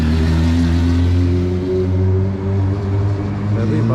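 A motorbike engine on Bruton Street, London, runs close by with a steady, loud low drone that rises slightly as it revs. The sound is continuous, with no break in it.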